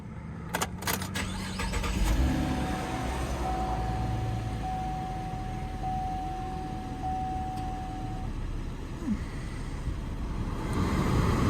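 A Chevrolet Camaro engine cranks with a few quick clicks, catches and settles into a steady, close idle that hums on throughout, with a thin tonal whine riding over it for a while.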